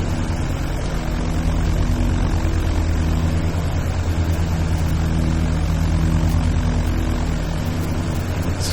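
A propeller aircraft taxis toward the runway at Cambridge in a flight simulator, its engine a steady, loud drone with a constant low hum and no talk over it.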